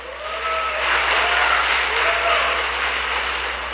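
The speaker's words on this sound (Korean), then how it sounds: "박수 한번 주십시오." An audience claps at a business presentation, a steady dense burst of applause that holds evenly, then eases slightly toward the end.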